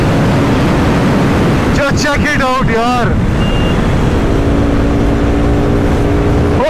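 KTM RC 390 motorcycle at speed on a highway, a loud steady broadband roar with heavy wind rush throughout, a rising engine tone near the end, and someone speaking briefly over it.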